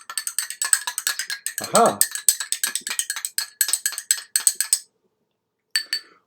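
A spoon rattles and clinks rapidly against a glass of water as it is agitated, a quick run of bright taps that pauses near the end, with one short exclaimed word partway through.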